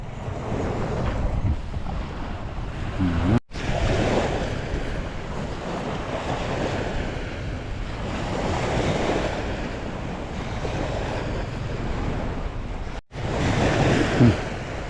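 Ocean waves at Bang Saen beach wash up on the sand in a loud, continuous roar of surf with wind buffeting the microphone, briefly cut out twice.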